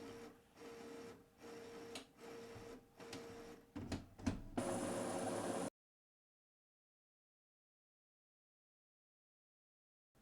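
A sublimation printer runs after new ink is installed, giving a steady mechanical whir with rhythmic pulsing passes for about five seconds, then a brief louder burst before it falls silent.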